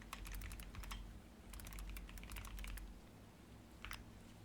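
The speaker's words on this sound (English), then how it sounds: "Trying to hold off when I hear typing." Rapid clicking of computer keyboard keys in bursts of typing, with a short pause before a final flurry, close and fairly quiet over a low steady hum.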